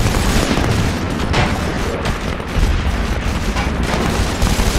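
Gunfire in the video game SOCOM 4: U.S. Navy SEALs, a dense continuous fusillade of shots and booms, loud and constant throughout.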